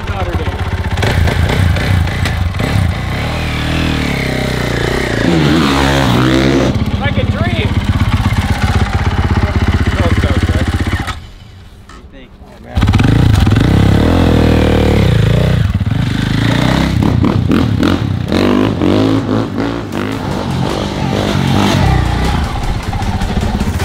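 Aston Martin sports car heading out for a drive, its engine revving and accelerating loudly up close, dropping briefly to near silence before roaring again, with people talking over it.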